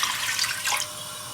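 Water pours steadily into a pot for sugar syrup for rasgulla, a continuous bright splashing rush that thins out toward the end.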